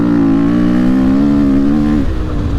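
A dirt bike engine revs loudly and steadily, a high sustained whine holding its pitch before dropping off near the end.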